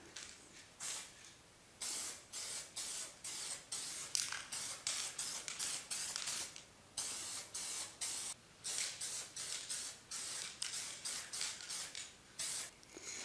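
An aerosol can sprays clear coat onto car interior dash parts in a long series of short hissing bursts, each lasting about a second with brief pauses between, close and even, with no speech.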